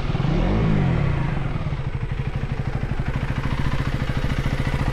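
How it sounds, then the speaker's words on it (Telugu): A 2024 Husqvarna Svartpilen 401 motorcycle's 400 cc engine runs close by, rising briefly then settling into a steady, thumping idle with a fast, even pulse. "ఇంజన్ సౌండ్ చూడండి ఫ్రెండ్స్, అసలు ఎంత పవర్ఫుల్ ఇంజన్."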